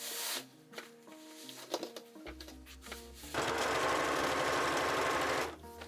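A sewing machine stitches along the folded top of a curtain, its rapid mechanical whirr starting and stopping in short bursts before settling into a loud, steady run that ends abruptly.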